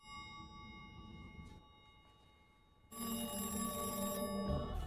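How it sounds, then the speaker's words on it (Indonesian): A telephone bell rings loudly in a house, a steady ringing tone that starts after a quieter stretch and continues to the end, with no talk. "mendengar telepon yang berbunyi"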